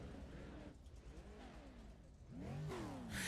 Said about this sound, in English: All right, who's revving it? Who's revving it?